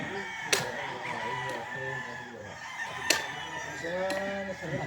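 Chickens cluck in a busy farmyard while a rooster crows in drawn-out calls, with sharp clicks and a faint voice in the background mixed among the birds.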